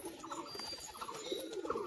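Close, soft cooing from a yellow-eyed male pigeon marked with a black border, a few murmuring throaty phrases repeating over steady background noise, with no talking.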